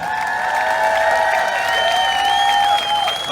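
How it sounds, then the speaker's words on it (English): A crowd at a Bermuda Pride event gives the Stubbs family a round of applause, with sustained clapping and high whoops and cheers ringing over it. "give them a big round of applause"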